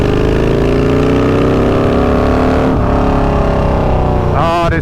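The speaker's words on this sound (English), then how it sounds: "This thing sounds absolutely wicked. One of the best twin cam Harleys I've ever ridden or owned." A Harley-Davidson twin cam motorcycle engine idles loud and close, with a thick, steady rumble that holds throughout and shifts slightly near the end.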